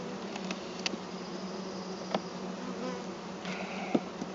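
Honeybees drone steadily around an opened, well-populated hive at the first spring inspection, with a few brief clicks and knocks from handling the hive.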